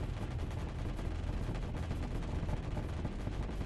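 Rapid, sustained gunfire from a bank of weapons in a space combat video game, a dense rattling barrage that runs at steady loudness throughout with no talk over it.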